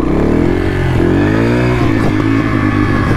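A KTM motorcycle engine roars loud and close while a rider practices a wheelie, the throttle feathered so the pitch rises and dips steadily over constant road and wind noise.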